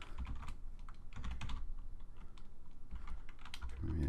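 Fingers type on a computer keyboard close up at a quiet desk, a soft, uneven patter of key taps arriving in short bursts with brief pauses between them.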